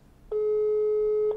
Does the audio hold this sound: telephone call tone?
yes